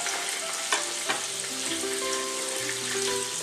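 Peeled plantain slices frying in hot oil for tostones, a loud steady sizzle and crackle with occasional sharp pops, no voices.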